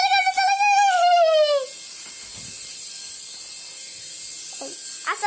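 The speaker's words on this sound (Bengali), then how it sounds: "হেলিকপ্টার চালাতেছি আয়" A small toy helicopter's electric motor whines loudly with a rising, then falling pitch for the first second and a half, followed by quieter, uneven buzzing and faint rustling.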